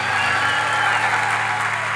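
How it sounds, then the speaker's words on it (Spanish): Studio audience applause on a Colombian live talk show, steady dense clapping with a low musical hum beneath, continuous for two seconds. "Fuerte el aplauso al maestro"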